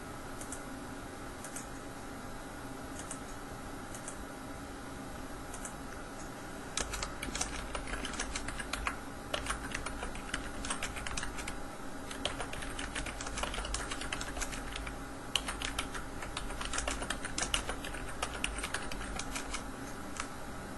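Rapid clattering keystrokes on a computer keyboard, close and steady, starting midway after a quieter stretch of faint room noise and continuing in an uneven, busy rhythm.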